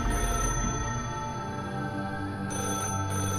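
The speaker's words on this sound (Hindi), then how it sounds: "तुषार को फिर से उस टेलीफोन के बजने की आवाज आई" A telephone rings as a sound effect in a spooken horror tale, sounding as a sustained electronic ringtone with steady, bright tones over a low background hum. It plays on alone, without speech.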